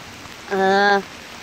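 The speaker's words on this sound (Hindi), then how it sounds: "ये देखें जनाबे वाला बरसती बारिश और इस्लामाबाद का हुस्न।" Heavy rain falls in Islamabad as a steady hiss throughout, briefly interrupted midway by a loud, tonal, horn-like blare.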